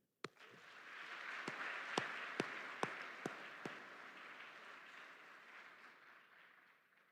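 Applause from a graduation audience at an Army AIT ceremony at Fort Sill, a steady wash of many hands clapping at moderate distance with a few sharper individual claps early on, gradually fading out.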